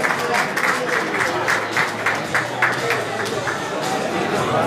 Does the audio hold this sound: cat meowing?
no